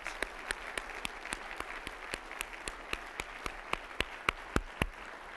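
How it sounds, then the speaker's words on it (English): A convocation audience's applause: sparse, scattered claps with distinct individual hand strikes rather than a dense roar, moderately close and fading toward the end. "Give yourselves a round of applause."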